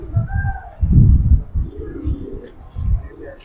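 Several pigeons coo nearby in low, throaty, rolling bursts, three or four distinct phrases with soft chirps in between.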